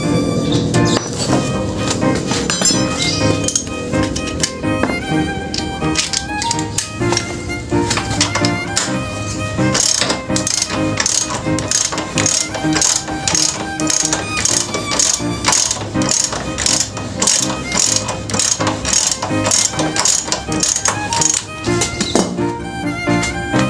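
A ratchet wrench clicks steadily as it turns the swing arm bolt on a motorcycle being fitted with a DT10 metal swing arm, giving loud, close, fast repeated clicks through the whole stretch with no talking.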